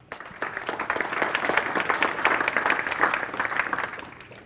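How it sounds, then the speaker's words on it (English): An audience at a data science talk claps for the next speaker, a dense burst of applause that swells, holds for several seconds and tapers off. "Let's give a round of applause for Tony."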